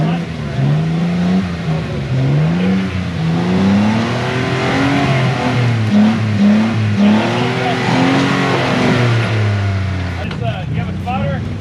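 An off-road vehicle's engine revs and strains on a rocky, tree-lined trail, rising and falling in repeated pulls, with someone talking over it almost the whole time.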